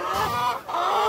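Backyard criollo hens cluck in short, close calls, two quick bursts with a brief pause between.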